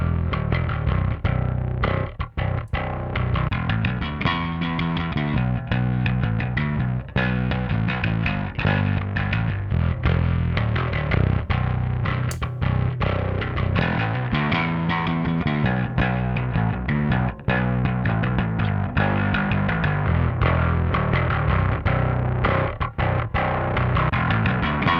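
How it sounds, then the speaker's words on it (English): A bass guitar played through a Mosky Third Space amp, its clean signal blended with distortion, gives a gritty, fuzzy tone across a continuous riff of repeated notes lasting about twenty-five seconds, loud and alone. "we can then use the preamp blend dial to get a nice blend of clean and distorted"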